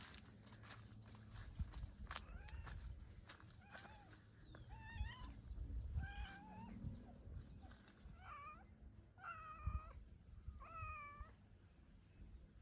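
Several cats meow in a series of short, rising and falling calls, fairly faint, over a murmur of low background noise and scuffling steps outdoors.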